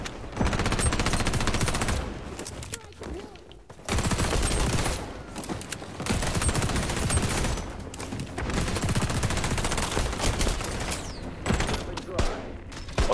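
Rapid SMG gunfire in the xDefiant first-person shooter game, dense bursts of shots repeating over most of the stretch with brief gaps, loud and close amid game effects, with someone talking over it.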